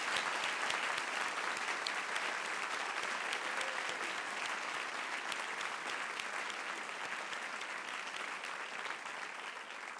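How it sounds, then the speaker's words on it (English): A luncheon audience at a Girls Inc. awards event gives a long, dense round of applause for scholarship recipients, many hands clapping steadily for about ten seconds and fading slightly toward the end, with no talking. "Please join me in a round of applause to congratulate the Suzanne Patmore Gibbs"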